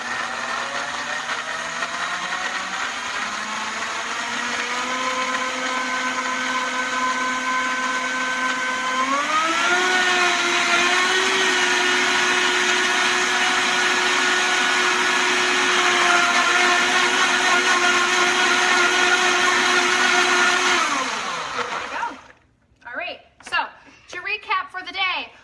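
Blender whirring through a smoothie with ice, loud and steady for about twenty seconds, its pitch rising partway as the load loosens, then switching off into brief clatter and handling noise.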